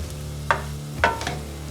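Taco filling being mixed in a pan for tacos gobernador, with a couple of spoon scrapes and stirs over a low steady sizzle, close and fairly quiet.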